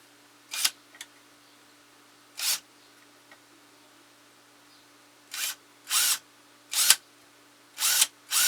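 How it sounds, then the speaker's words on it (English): A power drill fitted with a 1/4 inch bit bores into the wooden body of a handmade ventriloquist figure, heard as short whirring bursts, a few spaced apart and then several in quicker succession, over a faint steady hum. "So I'm going to use a 1/4 inch drill bit, and we'll go down through here"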